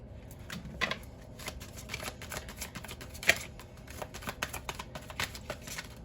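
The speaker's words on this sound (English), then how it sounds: "This is a messy shuffle. It's not coming easy." A deck of tarot cards is shuffled in a messy, uneven way, giving a steady close riffling and flapping texture broken by sharper slaps and clacks. No one speaks.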